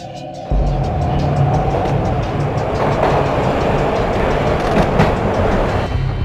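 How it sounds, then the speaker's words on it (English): Steady rumbling rattle of a train ride in the Max Payne video game, starting abruptly after a brief quiet moment and continuing loud and unbroken with faint rhythmic clatter throughout. "This was my second train ride of the night."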